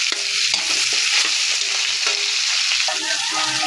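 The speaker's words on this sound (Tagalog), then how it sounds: "Ilalagay na natin itong karne. Bago halo-haloin." Meat sizzles loudly in a hot pan as it is added and stirred while sautéing, with continuous frying hiss and repeated scraping stir strokes close up.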